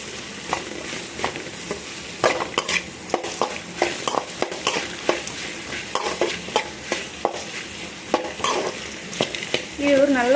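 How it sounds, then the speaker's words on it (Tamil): Okra being stir-fried in a pan: a continuous sizzle broken by frequent clacks and scrapes of a spatula turning the pieces, close and fairly loud. "வெண்டைக்காய் சேர்த்துட்டு இப்போ நல்லா நம்ம வதக்கி விட்டுக்கலாம்."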